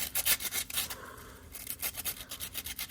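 Sandpaper rubbing rust off a metal part from a Uline nugget ice maker, a steady series of quick rasping back-and-forth strokes heard up close with no talking.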